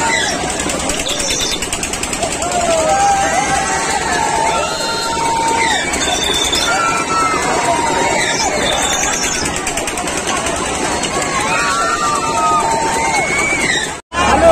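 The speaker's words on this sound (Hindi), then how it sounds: "मेले में इतना ज्यादा भीड़ है" A dense crowd at the Baba Maniram fair in Biharsharif during the Sawan season, a steady, loud babble of many voices with distant engines and birds mixed in, continuous throughout and briefly dipping near the end.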